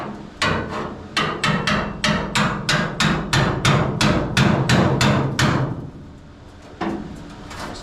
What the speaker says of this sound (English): This thing will cut through metal like you can't believe, especially with the hammer.